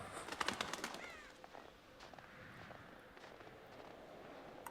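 A bird in the Until Dawn game chirps with quick, bright calls near the start, then fades into a faint outdoor ambience with a few soft, scattered sounds.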